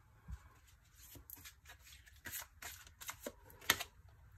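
Cards being handled and shuffled at a reading table, with a run of light papery flicks and soft taps, irregular and close, one sharper snap near the end, quiet and without talking.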